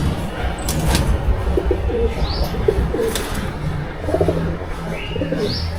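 Black-tailed high-flying pigeons coo close by, low rolling calls recurring steadily with a few chirps and a sharp whistle-like note, heard mostly on their own.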